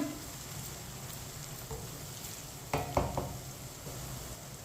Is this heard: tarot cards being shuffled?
no